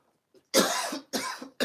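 Two or three sharp coughs in quick succession, close and fairly loud, with brief quiet gaps between them.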